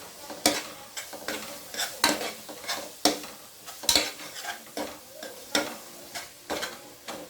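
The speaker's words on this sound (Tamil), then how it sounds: "ஸோ அதையும் நம்ம நல்லா கிளறி விட்டுக்கலாம்" Ginger garlic paste frying in a pan for chicken biryani while a spoon stirs it, irregular scraping and tapping strokes roughly every half second over a low sizzle, close and steady with no talking.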